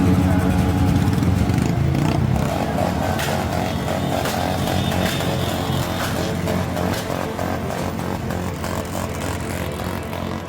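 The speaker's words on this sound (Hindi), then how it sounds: "ये कार्यकर्ता बिना हेलमेट मोटरसाइकिल पर सवार हैं। पूरे रास्ते शोर शराबा हो रहा है" Campaign activists riding motorcycles without helmets along a street, with loud, raspy engines revving and droning together in a dense, close roar that eases slightly over ten seconds, with sharp crackling bursts mixed in.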